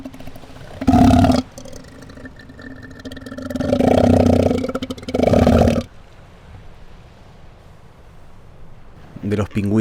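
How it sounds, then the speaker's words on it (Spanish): Elephant seals roaring on an Antarctic shore, several deep, throaty, gurgling bellows in bursts of one to two seconds, loud and close, with wind noise between them. "Los elefantes marinos."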